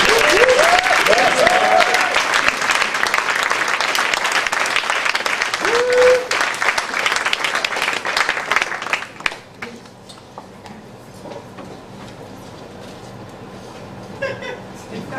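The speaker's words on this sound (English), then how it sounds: "A big round of applause as he makes his way." Audience at a live poetry event bursts into loud, sustained applause with cheering and whoops for about nine seconds, then the clapping drops away to quieter room noise with scattered sounds.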